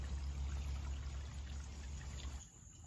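A small woodland stream full of salamander larvae flows steadily, a close, continuous trickling rush of water that softens slightly near the end.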